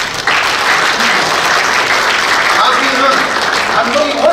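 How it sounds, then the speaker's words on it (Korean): Applause from a seminar audience in a Seoul press centre conference hall, a sudden burst of many hands clapping that holds steady and close for several seconds. "제 말씀에 어느 정도 동의하시면 박수 한번 해주십시오"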